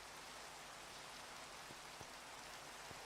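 Steady rain pours down in a video game world after the weather is switched to thunder, a dense, even hiss filling the scene with a few brief drop taps standing out, loud and continuous with no talk.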